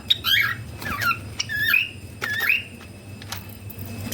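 Several sharp, high squawks and chirps from a small Java sparrow, close by, repeating in short irregular bursts.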